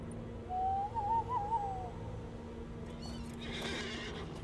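A horse whinnies in a fantasy online role-playing game set in Wildermore, a single wavering neigh standing out over steady background game ambience, followed by softer shuffling movement.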